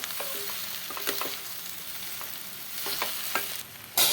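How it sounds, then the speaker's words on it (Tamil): Potatoes and onions frying in oil are stirred in a pan, with scraping strokes and a steady sizzle running throughout, clear and close, ending in a brighter burst of hiss. "இப்போ எண்ணெய் விட்டதுக்கப்புறம் நல்லா மிக்ஸ் பண்ணி விட்டாச்சு"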